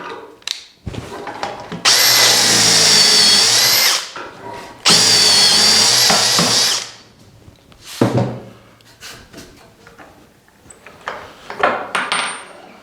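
A power drill whirs loudly in two sustained runs of a couple of seconds each, with clunks, handling noises and rattles between and after.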